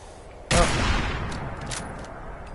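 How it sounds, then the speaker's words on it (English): Sniper rifle fire in Fallout 76, one loud close shot cracking out sharply and then rolling into a long reverberating tail, with faint higher clatter trailing after it. "Oh, well, I guess we can use the sniper rifle."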